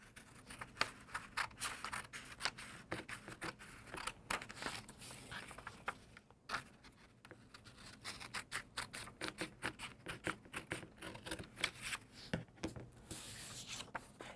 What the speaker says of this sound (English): you want to cut out a large triangle